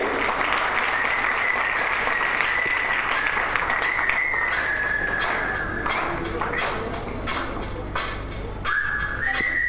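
An audience at a school annual day function in Varanasi breaks into loud, sustained clapping, joined by sharp whistles that cut through the applause several times.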